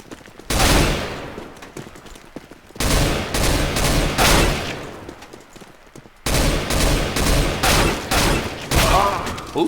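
Gunfire in Counter-Strike on the Aim Botz training map comes in three long bursts of rapid shots, loud and close, separated by short quiet gaps.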